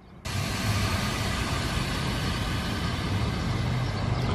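Air suspension on a bagged show car vents and lowers, a sudden loud hiss of escaping air that starts abruptly and holds steady and close with no talking.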